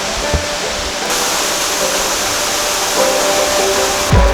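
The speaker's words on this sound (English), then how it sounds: "We just came back to see that waterfall, and we're gonna go to the next one." Steady, loud broadband rush of a North Georgia waterfall, likely Helton Creek Falls or DeSoto Falls, continuous and close throughout, with a few faint knocks and shifts in the roar.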